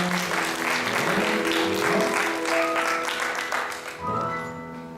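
Church congregation at a Sunday service claps after gifts of Bibles are handed out, a sustained round of applause with a faint tone underneath that thins toward the end.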